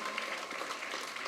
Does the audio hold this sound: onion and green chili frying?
no